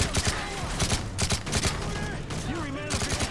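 Rapid bursts of automatic gunfire in Call of Duty Modern Warfare 3, dense overlapping shots laying down suppressing fire in a military camp, loud and continuous under shouted voices.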